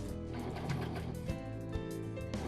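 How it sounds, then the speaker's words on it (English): A Brother 1034D serger stitching elastic onto fabric, a steady close mechanical whir with rapid ticking needle and looper action running continuously, no talking. "Now stitch the elastic to the fabric."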